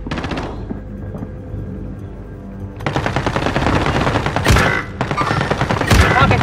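Heavy automatic gunfire erupts in Call of Duty Modern Warfare, a sustained loud rattle of rapid shots with a lull before it resumes even harder, punctuated by booming hits.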